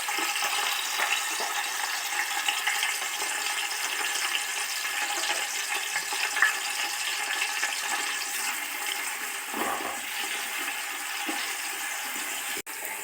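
Four chopped onions hit hot oil in a pan for a simple chicken gravy, producing a loud, steady sizzling hiss that continues throughout without speech.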